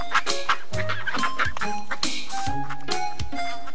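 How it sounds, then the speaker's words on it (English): Cartoon ducks quacking as a mama duck and her ducklings cross the road in front of a stopped bus in a kindergarten learning game: loud, rapid repeated quacks over music, with a little voice mixed in. "The bus stopped because ducks were crossing the road!"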